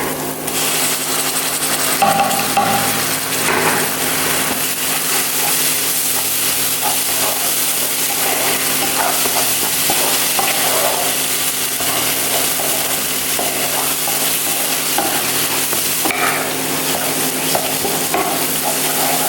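Spices sizzle and fry with tomato paste in a pan for a chicken roast, a steady loud hiss under repeated scraping stir strokes, with no voices.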